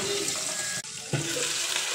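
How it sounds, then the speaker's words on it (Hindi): Water pours in a steady, close rushing stream into a cooking pot of browned onions for mutton pulao, with one brief break midway. "अब मैं इसमें डाल दूँगी पानी और इसके ऊपर दे दूँगी ढक्कन।"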